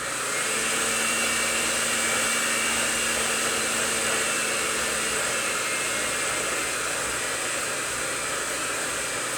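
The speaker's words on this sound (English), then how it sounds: "You can hear by the sound of the motor on this, it's thick as well." An electric mixer motor works through thick butter cake batter with a steady, strained whirring hum that stays even and continuous, with no voices over it.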